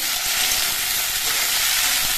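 Drumstick pods and potatoes sizzle and crackle steadily in hot oil in a pan, a continuous close frying hiss with occasional stirring.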